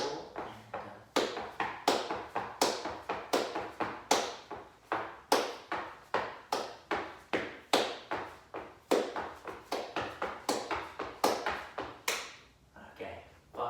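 Close, crisp body percussion foot taps on a hard floor, lifting the whole foot, in a steady rhythmic pattern, mixing single and quick double beats, with a softer stretch near the end.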